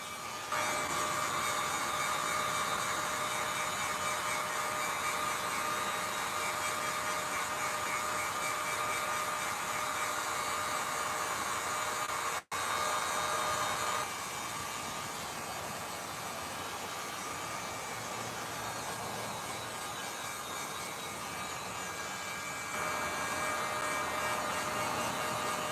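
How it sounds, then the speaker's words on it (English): Heat gun blowing hot air to dry a Jason Voorhees costume piece, a continuous roaring hiss with a brief break midway, steady and close throughout. "This is a heat gun, this is not a hair dryer."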